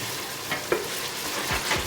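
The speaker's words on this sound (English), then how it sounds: "So I'm just stirring it now. Basically want the tomato puree and onions to be cooked." Tomato puree and onions cooking in a pot, stirred with a few soft scraping strokes over a steady close sizzle, no voices.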